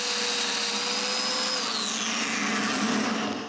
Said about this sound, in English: When I'm done, I mark where I need the new mortises to be and cut them.